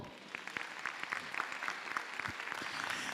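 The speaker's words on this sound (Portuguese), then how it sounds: "Você pode aplaudir ao Senhor?" A church congregation applauds the Lord during a service. Scattered, overlapping hand claps build into a steady patter, moderately loud and slightly distant, with no clear speech.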